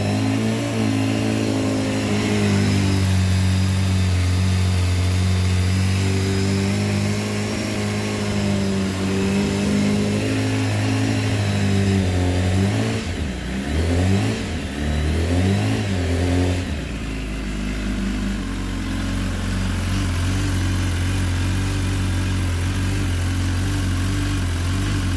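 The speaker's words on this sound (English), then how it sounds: "let's see what the bike sounds like. Let's hope it starts." A BMW S1000RR sportbike, under repair after a crash, holds a loud steady fast idle, then its engine is blipped in a couple of quick revs midway before settling back to a constant idle drone.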